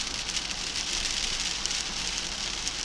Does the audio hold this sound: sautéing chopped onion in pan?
no